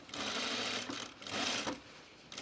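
A sewing machine runs steady stitches around the perimeter of a Mercer top, two sustained whirring runs separated by a short pause, close and clear with no talk.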